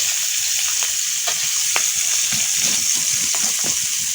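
Potatoes and pona fish fry in hot oil with a continuous bright sizzle and occasional crackles and spatula scrapes, close and steady, with no talking.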